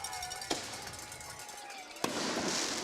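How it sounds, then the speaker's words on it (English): Fireworks shot off at the scoreboard during a high school football game give two sharp bangs about a second and a half apart, heard over steady crowd and stadium noise. "they shoot off some fireworks here in the scoreboard"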